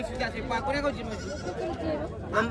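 Goats at a rural goat market bleat close by among a background of talking people, calls overlapping someone speaking throughout.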